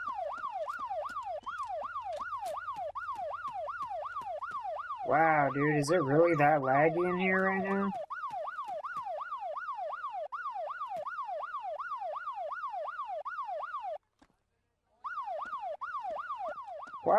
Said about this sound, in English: Shut the siren off!